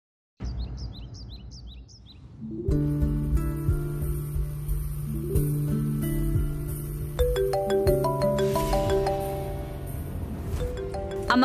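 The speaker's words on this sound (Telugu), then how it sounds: "ఫోన్ వస్తుంది చూడు." A phone ringtone in a Telugu TV serial scene: a short run of chirpy, bird-like beeps, then a loud melodic tune rising in repeating phrases that keeps on ringing.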